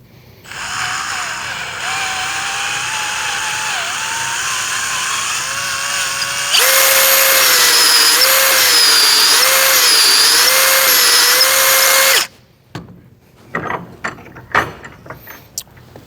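A wood lathe spinning a pen blank fitted with a brass tube gives a steady whine that runs at a lower speed, then jumps to a louder, higher pitch before cutting off, followed by a few light clatters.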